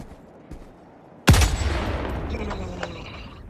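A sudden loud burst of gunfire erupts in the video game Helldivers 2, a sharp booming shot followed by a rapid rattling volley that trails off into rumbling echoes, close and heavy.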